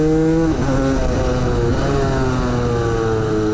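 A KTM 250 two-stroke motard motorcycle revs hard in a mountain forest, its engine note sweeping up and down through rising and falling pitches, loud and close, with no talk.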